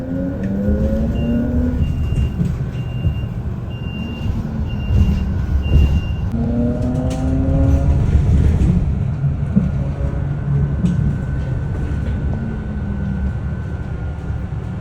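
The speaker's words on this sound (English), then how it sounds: "I've never seen a bus go past so many people" A city bus in Taiwan speeds past a crowded stop: a loud, sustained engine and road roar that swells and passes, with rising tonal whines and a few high beeps along the way, no talking.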